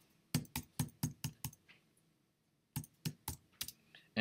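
Keys clatter on a computer keyboard during a coding session: a quick run of about six keystrokes, a short pause, then another burst of five or so, crisp and close with no talk.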